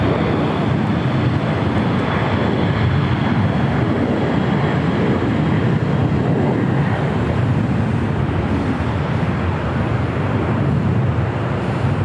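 An American Airlines Boeing 737-800 bound for Las Vegas departs LAX, its engines giving a steady, loud broadband roar that holds evenly throughout with no voices over it.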